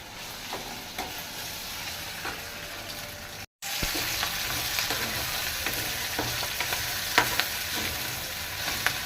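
Ginger garlic paste and curry leaves fry in hot oil for an eggplant and potato curry, giving a steady close sizzle with scattered stirring clicks and a brief break in the sound.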